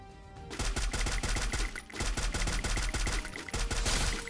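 Rapid bursts of gunfire in the battle-royale game Free Fire, loud and close, with dense automatic volleys and short gaps between them, no talk heard over the shots.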